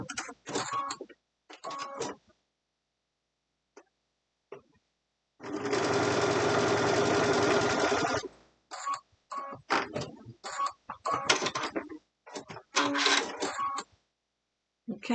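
A sewing machine stitches the seams of a table runner block in one steady, whirring run of about three seconds, set between bursts of close talking.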